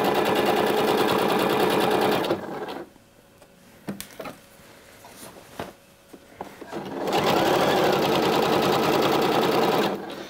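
A sewing machine stitching along a skirt waistband, running in a loud, fast, steady buzz for about two seconds. After a quieter stretch of handling clicks, it runs again in a second long burst.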